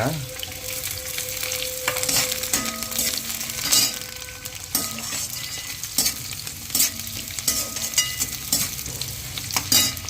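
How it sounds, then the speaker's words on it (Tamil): Green chillies, shallots and garlic frying in hot oil, a constant loud close sizzle with spoon stirring, scraping strokes and occasional light clinks against the pan, no voices. "நீங்கள் வெட்டி வச்சுருக்கிற பச்சை மிளகாய், சின்ன வெங்காயம், பூண்டு, இதெல்லாம் இதில் போடுங்க"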